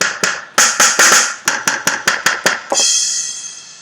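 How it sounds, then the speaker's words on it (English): Studio One's Impact Rumi rock drum kit plays a steady run of punchy, evenly spaced hits, about a dozen in a row, close and loud, closing on a crash cymbal that rings out and fades. "here I already have the Rumi rock kit loaded up"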